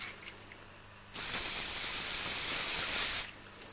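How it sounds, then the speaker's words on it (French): Anti-demon spray hisses from a spray can in a single steady burst of a little over two seconds, loud and close, with no talking over it. "le spray anti-démon. Qu'on applique sur les démons, comme ceci."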